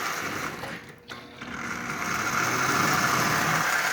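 A Marx 1666 toy train locomotive with its brass clacker strip removed runs steadily, a close, continuous mechanical whir and hum with a brief dip partway through before settling into an even drone.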